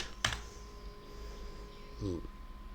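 A login is typed on a computer keyboard as two short, close bursts of keystroke clicks, one near the start and one near the end, with a quiet gap and soft background noise between them.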